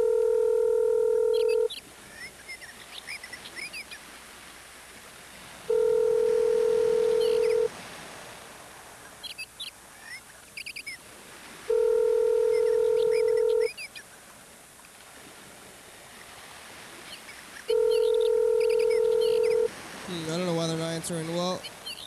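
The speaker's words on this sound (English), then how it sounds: "So I'm trying to get this McDonald's to answer the phone." A phone line calling a McDonald's restaurant in Rialto, California sounds four long two-tone ring-back signals at steady intervals, each followed by a stretch of quiet line noise, with a brief garbled tone burst at the end.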